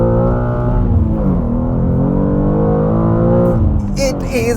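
A new BMW M2 sports car engine holds a deep, steady rev with rich harmonic drone, then the note drops away near the end, loud and up close.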